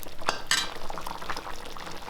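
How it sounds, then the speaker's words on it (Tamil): Water bubbles and simmers in a pot of Tamil sambar, with soft popping and a light clink of utensils close by. "இப்போ தண்ணி சேர்த்து நல்லா கொதிச்சு வந்துடுச்சு பாருங்கள்"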